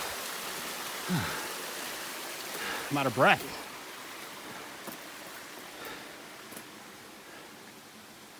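The third waterfall on the Ka'au Crater trail in Hawaii rushes as a steady broadband hiss of falling water, with a hiker speaking briefly and breathing hard near the microphone.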